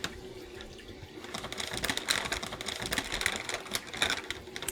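Two ounces of clean water poured from a small bottle into a microwave steam-cleaning bag holding breast pump parts, a brief, close splashing trickle with crinkling plastic.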